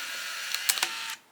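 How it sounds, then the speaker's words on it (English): Instax Mini 12 instant camera shutter pressed, firing a short burst of mechanical clicks and a brief whirring feed as the protective film sheet is pushed out, close and quiet, with no talk. "I'm just going to press that shutter and that protective film"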